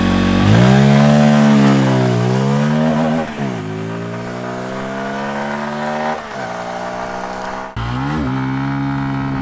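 A Bajaj Pulsar 250 motorcycle accelerating hard in a 0 to 100 test, engine note climbing steadily through the gears with short dips at each shift, loud and close throughout.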